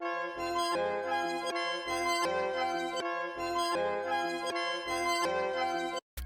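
FL Studio melody loop with a half-time effect, a bright synth and bell pattern over a slow bouncing beat, steady and loud, ending with an abrupt cut near the end.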